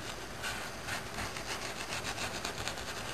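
A nearly dry paintbrush is scrubbed back and forth over a surface to build a dry brush cloud effect, giving a steady close, rhythmic bristle scratching with no talk.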